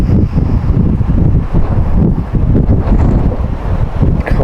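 Strong gusts of wind at an outdoor rifle range buffet the microphone with loud, continuous low rumbling and rushing, with no talk.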